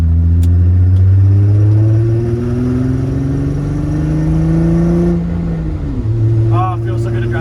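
A car engine hums steadily while driving after new axles were installed, pitch rising as it accelerates, then dipping with a gear change before climbing again; a voice briefly speaks near the end.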